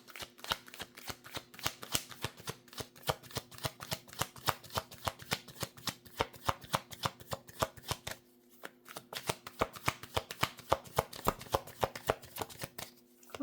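A tarot card deck is shuffled over and over, producing rapid crisp riffling flicks in quick bursts with a short pause midway before the shuffling resumes, close and clear without talking.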